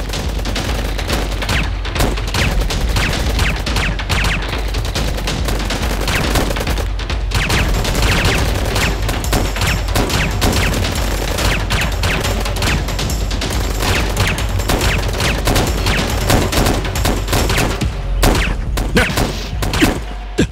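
Dense, continuous gunfire rattles loudly for the whole stretch, with rapid bursts and booming shots blending into a constant barrage.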